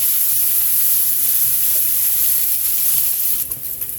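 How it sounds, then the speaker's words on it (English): Bacon sizzles and fries in a hot pan, a dense, steady crackling hiss with small pops, close and continuous, thinning slightly at the end. "You want to make sure that that sizzle, when it starts changing, that you lower your heat so you don't burn your bacon"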